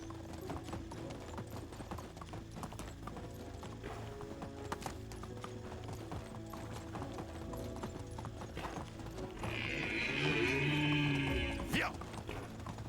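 Horse hooves clip-clopping in the medieval video game Medieval Dynasty, a steady rhythmic trot running throughout under game ambience and a player's talk, with a brief whinny near the end.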